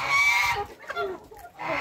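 Backyard free-range chickens clucking, with a rooster's crow breaking in. The short burst of fowl calls is close and fairly loud, and no one speaks over it.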